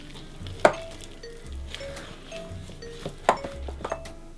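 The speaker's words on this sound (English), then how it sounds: "And give that a stir in." A spoon stirs an egg into ginger cake batter in a bowl, giving soft scraping swirls punctuated by a few sharp clinks against the dish, fairly quiet and without talking.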